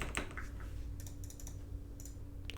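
Close, steady keystrokes on a computer keyboard while entering commands into an SSH terminal, a quick run of clicks over a low constant hum.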